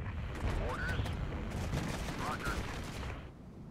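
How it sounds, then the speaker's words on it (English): Dense rumbling barrage from artillery and missile strikes in the war game Regiments, a continuous roar of blasts and distant fire with faint voices beneath, fading slightly at the end. "Let's drop some artillery on these guys. They're getting hit with missiles."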